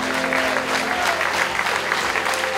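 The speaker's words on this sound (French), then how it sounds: "un tonnerre d'applaudissements pour l'ensemble de l'équipe du domaine Loup Capitaine" An anniversary audience gives a sustained round of applause for the team of the Loup Capitaine estate, steady and full, with no talk over it.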